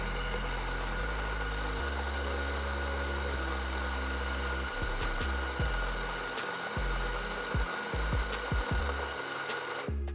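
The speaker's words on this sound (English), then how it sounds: "We're just going to grind a double." A SanRemo AllGround home coffee grinder grinds a double dose of beans with a steady motor whir. Rattling crunches and clicks join partway through, close and continuous, with no talk.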